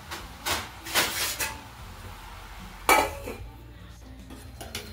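Metal lid set onto a cooking pot of ridge gourd and chana dal curry, giving a few sharp clinks and clatters with short pauses between, close and clear in a quiet kitchen.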